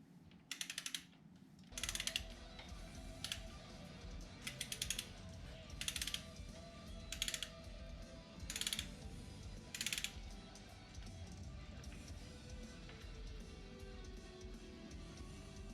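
A torque wrench ratchets on a Harley-Davidson M8 oil pump bolt, tightened to 15 foot-pounds: sharp, close clicking bursts repeat in a steady rhythm over a quiet mechanical background, with no talking.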